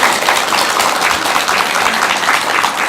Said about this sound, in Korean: 박수 한번 드리시죠.